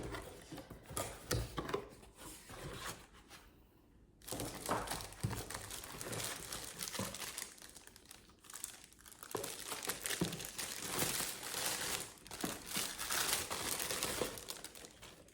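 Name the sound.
unboxing a Sweetheart wax warmer, crinkling packaging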